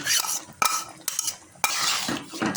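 Amra pickle with tamarind is stirred in a pot, with quick scraping strokes and clinks of the utensil against the pot and a light sizzle between them, close and brief.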